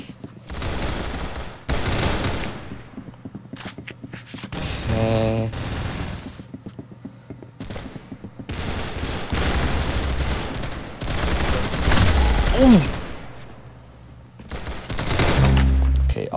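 Automatic weapons fire in bursts during a Roblox Arsenal match, rapid sharp volleys separated by short gaps, with a few rising game tones in between and no talk.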